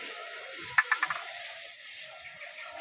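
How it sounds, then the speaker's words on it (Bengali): Small potatoes frying in oil for a hing-flavoured aloo dum, a soft steady sizzle with a few brief stirring clinks near the start, close and fairly quiet. "আলুগুলো ভালো করে ভেজে নেব"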